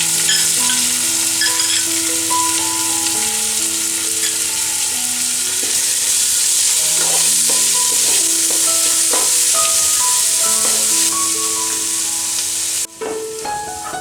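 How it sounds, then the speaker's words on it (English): Four finely chopped onions frying over low heat after ginger and garlic, with a loud continuous sizzle and repeated stirring scrapes close by, no voices. "We need to keep stirring and cook them on low flame to ensure that they are evenly cooked."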